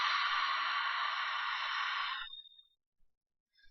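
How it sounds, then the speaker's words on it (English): A long, smooth ujjayi breath exhaled through a constricted throat, a steady breathy hiss lasting about two seconds before it fades to silence, close and alone. "make a sighing or a hissing sound in the back of the throat, long and smooth"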